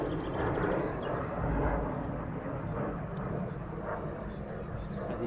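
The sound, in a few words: military jet returning to RAF Lakenheath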